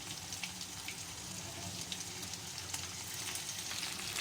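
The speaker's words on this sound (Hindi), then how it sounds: "ये फ्राई हो चुकी है कि तकरीबन 5 से 10 मिनट में फ्राई हो जाती है" Small chicken pieces frying in a pan, a steady close sizzle with fine crackles and pops that holds at even loudness throughout, with no talking.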